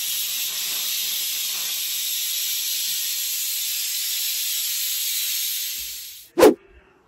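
A pressure cooker being opened releases a loud, steady hiss of steam that runs for several seconds, then cuts off abruptly, followed by a short clunk.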